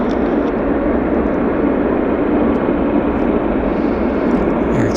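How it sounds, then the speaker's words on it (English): A WestJet airliner rolls down the runway on takeoff at Vancouver airport, a loud continuous engine roar filling the whole stretch with a steady, dense rumble and no voices. "WestJet on the roll."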